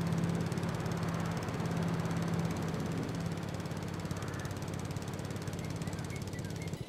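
A tractor engine in Farming Simulator 22 runs with a steady, rough droning hum throughout, moderately loud and unbroken while the tractor is driven.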